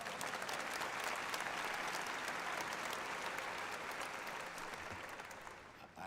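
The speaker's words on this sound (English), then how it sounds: "So another round of applause maybe for Tara." An audience applauds at a medical school white coat ceremony, sustained dense clapping from a large crowd that holds steady and then tapers off.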